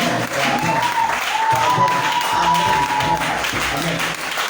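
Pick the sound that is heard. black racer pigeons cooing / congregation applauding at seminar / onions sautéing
congregation applauding at seminar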